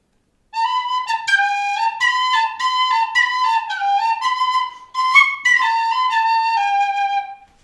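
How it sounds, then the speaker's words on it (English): A tin whistle plays a bright, lively melody solo. Its clear, breathy notes come close and loud, with a brief pause before the tune picks up again. "And also, I played the tin whistle for you."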